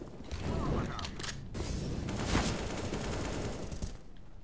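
Rapid bursts of gunfire in Counter-Strike: Global Offensive on the Nuke map, dense and loud throughout with overlapping shots and mechanical clatter.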